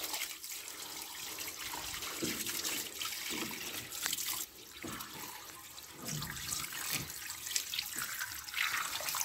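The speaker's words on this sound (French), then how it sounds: "Donc là, je vais faire l'arrosage tout autour" Water sprays from a garden hose onto a terrace during a leak search, a continuous hissing splash with uneven surges and a brief dip midway, heard close with no talking.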